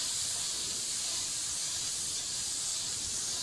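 Butter sizzles steadily in a hot pan with an even, soft hiss that holds without pause, close and fairly quiet.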